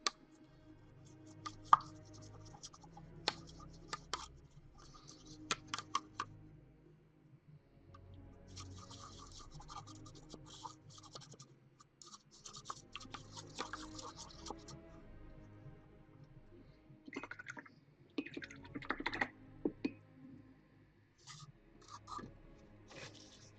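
A large dry-brushing brush stirs PVA glue with liquid and brake fluid, making soft, faint scratching and dabbing strokes in irregular bursts separated by pauses.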